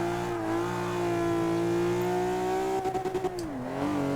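A Ferrari 250 LM engine in the racing game Forza Motorsport 6 holds a loud, steady high-rev drone in first gear. Near the end it breaks into a quick stutter of cuts and dips in pitch before climbing again.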